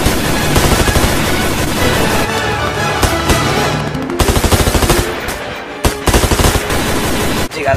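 A machine gun fires long, rapid bursts close by, a dense clatter of shots broken by short pauses. No one speaks.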